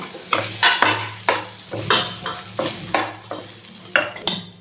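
Onions with salt are frying in a pan while a spoon stirs and scrapes them, giving a soft sizzle under repeated rhythmic metallic clinks and scrapes, close and steady with no talk.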